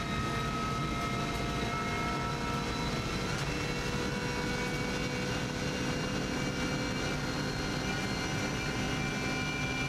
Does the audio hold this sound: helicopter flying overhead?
yes